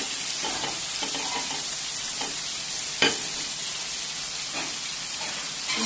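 Chopped pepper, onion and garlic sizzle with minced meat in a frying pan, a steady close hiss broken by occasional stirring scrapes, with no talking over it.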